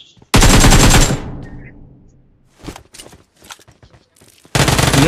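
UMP45 submachine gun in a mobile shooter game, two loud sustained bursts of rapid automatic fire with a fading tail between them and scattered clicks and footsteps in the gap.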